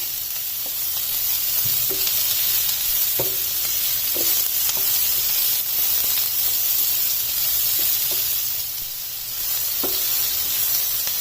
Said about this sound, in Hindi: लहसुन अदरक और जीरे में जब इस तरह से कैप्सिकम को फ्राई करते हैं